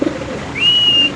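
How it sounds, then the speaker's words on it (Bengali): A pair of Bombay pigeons gives a short, close call, with a thin sustained whistle-like tone rising and holding briefly after a soft low murmur at the start, no talking. "এক জোড়া বোম্বাই কবুতর"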